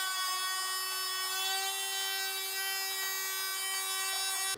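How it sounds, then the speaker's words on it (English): A Dremel rotary tool cuts into the casing of an old LCD monitor, giving a loud, steady high-pitched whine that holds continuously up close and cuts off abruptly at the end. "Pull out the Dremel,"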